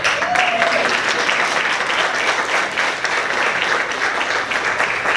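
A town hall audience in Opelika, Alabama applauds steadily and loudly, a dense wash of many hands clapping that holds for the whole stretch without fading.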